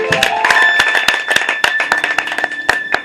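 A church congregation claps in praise of the Lord, a quick, uneven run of sharp hand claps close by.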